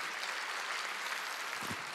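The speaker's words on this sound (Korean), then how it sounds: "박수 좀 쳐줘요." A church congregation at a Wednesday worship service applauds, a steady wash of many hands clapping from a large room throughout, with no one speaking over it.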